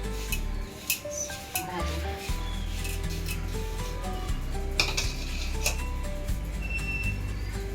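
Rice flour being mixed in a bowl while preparing Malvani surmai fry, with soft scraping and rubbing strokes and light clinks of utensil against the bowl, steady and close, no talk.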